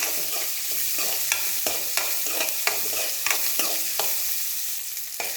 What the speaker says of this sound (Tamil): கருவேப்பிலை, பெரிய வெங்காயத்தை பொடி பொடியாக அரிஞ்சு வச்சுருக்கேன். நல்லா வதக்கணும்.